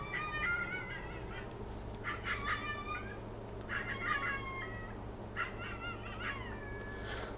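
A small Shih Tzu dog barks in the distance from a neighbouring property, giving four bursts of high-pitched yappy calls over a steady background hum.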